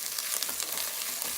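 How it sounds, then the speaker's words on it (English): Garlic frying in a masala base sauce while being stirred, a steady close hiss and sizzle with soft scraping pulses from the stirring. "now I'm going to go in with the garlic and stir that through."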